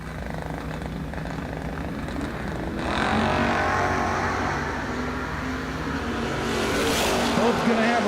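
Engines of a Mustang and a Camaro at a drag race launch, the roar building about a third of the way through and staying loud and steady to the end.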